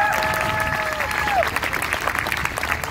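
Audience applause fills a town hall gathering, steady broadband clapping with crowd noise that holds for several seconds, while a voice speaks briefly over the start.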